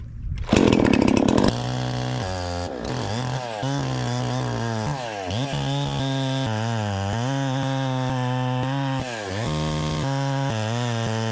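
A massive gas chainsaw bites into a wide log, starting with a loud burst of revving, then settling into a steady, strained cutting drone that rises and dips as the chain works across the wood.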